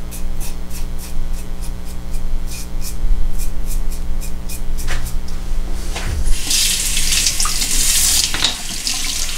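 A bathroom tap runs steadily while a shaving brush is rinsed under it, with a splashing spray bursting louder toward the end.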